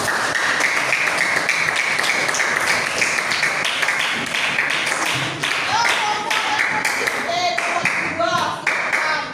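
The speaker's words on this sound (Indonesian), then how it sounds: "Kasih tepuk tangan buat kelompok 1." Students in a history classroom applaud a presenting group, a dense sustained clapping from many hands that fills the room, with voices talking over it.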